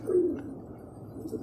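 A pigeon coos once, low and fairly close, on a rooftop among a flock of pigeons, followed by quiet background.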